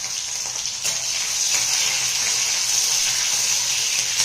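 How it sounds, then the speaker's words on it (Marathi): A ladle of oil with cumin seeds and finely chopped green chillies frying in a pan, a loud continuous bright sizzle that rises slightly after the first second and holds steady. "याच्यामध्ये मी 1 पळी तेल घालत आहे, थोडेसे जिरे घालत आहे, हिरव्या मिरच्या बारीक चिरून घेतलेल्या घालत आहे"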